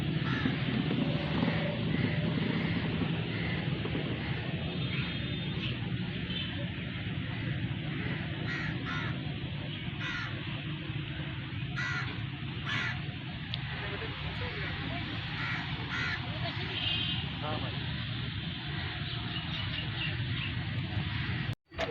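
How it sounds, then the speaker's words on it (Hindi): Crows cawing repeatedly while being fed and played with outdoors, harsh calls coming in bursts over a constant background noise. "कौवे उड़ा रहे थे और उनके साथ खेल रहे थे"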